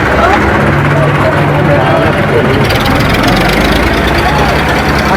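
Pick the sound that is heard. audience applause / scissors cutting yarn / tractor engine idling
tractor engine idling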